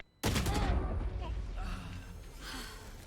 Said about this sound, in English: Shots coming out there from Chihuahua at the end guarantee his life